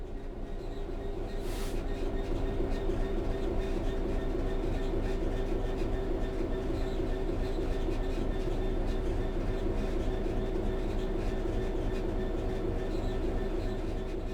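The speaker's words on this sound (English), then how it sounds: "The train will then coast on level ground" A train in the video game Train Sim World 3 coasts on level ground with a steady low rumble and mechanical drone, constant and fairly loud the whole way, with faint wheel clatter.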